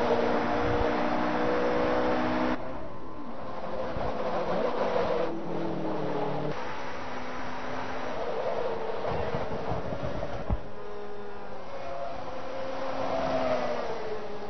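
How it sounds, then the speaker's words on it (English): A Ferrari race car lapping Sebring in Forza Motorsport 2, its engine droning loudly and continuously with shifting pitch as it shifts gears and sweeps through turns, with no voices over it. "Look at the way that DTMMovies.com sponsor Ferrari goes around the turn, very close to the wall."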